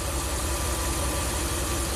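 A Ram camper van engine idles steadily with a low, even rumble and slight knock as the idle air control raises the idle, close and continuous with no talk.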